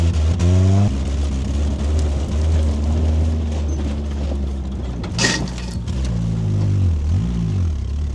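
Nissan pickup truck engine running and driving over a dirt mound, a loud, close, steady low engine drone with some rising and falling revs and a brief clatter midway.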